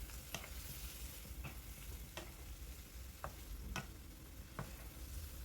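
Raw spice paste frying with tomato and ginger, a faint steady sizzle under a few sharp ticks of a spoon against the pan, quiet and close with no voices.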